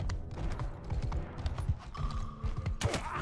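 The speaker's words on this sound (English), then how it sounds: "This is why you don't mess with desert horses." Desert horses gallop in a Mount & Blade II: Bannerlord battle, with rapid overlapping hoofbeats and clanking mechanisms close by, followed by a sharp burst of combat noise at the end.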